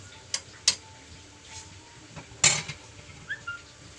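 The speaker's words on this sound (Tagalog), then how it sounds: "unti-unti natin haluin ito ng konti hanggang sa ito ay maluto" A spoon stirs string bean adobo in a pan, giving a few sharp scattered clinks and scrapes against the metal over a quiet background, with faint bird calls in the distance.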